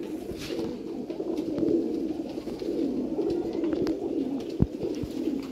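Close, low, rolling cooing from domestic pigeons kept for sale, with throaty calls repeating without pause and a sharp tap near the end.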